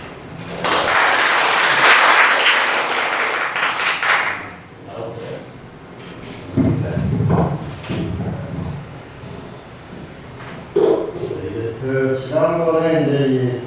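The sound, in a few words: audience applause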